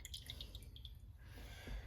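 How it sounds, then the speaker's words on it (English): The last bit of buttermilk is poured off freshly churned cultured butter, a faint trickle ending in a few soft drips, quiet and close. "Pour out the last little bit of buttermilk."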